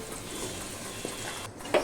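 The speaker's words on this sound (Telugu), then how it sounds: "ఆ చికెన్ అందులో వేసేయాలి" Marinated chicken pieces hit a hot pan of onions and fry with a steady, close sizzle and hiss, ending in a brief stir or clink.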